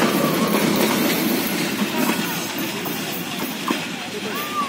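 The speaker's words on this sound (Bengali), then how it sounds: "এটা হয়তো অন্য কোনো ট্রেন, লালমনি এক্সপ্রেস বা অন্য কিছু হবে" A passing train rumbles close and loud with a continuous clatter of wheels and a faint metallic squeal, steady from start to finish.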